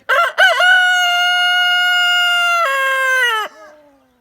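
A rooster crows once, loud and close, in a long drawn-out cock-a-doodle-doo that trails off at the end, with no voices over it.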